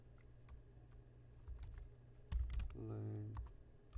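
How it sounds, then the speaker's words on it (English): Someone retypes HTML code on a computer keyboard, a run of soft, quick key clicks with a louder burst of strokes in the second half. "I'll just retype it."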